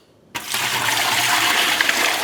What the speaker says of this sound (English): You're gonna put in the amount of water that your pressure canner specifically calls for.